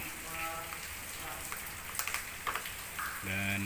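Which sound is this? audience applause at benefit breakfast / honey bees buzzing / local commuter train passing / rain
rain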